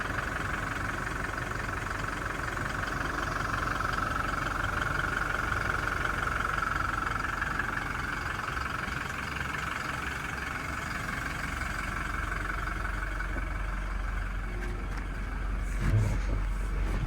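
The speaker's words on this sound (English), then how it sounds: "diesel engine, very powerful" A Toyota Hilux GD-6 RS Legend with a 2.8 liter diesel engine runs steadily at idle, its low rumble holding loud and close throughout, with a faint rise near the end.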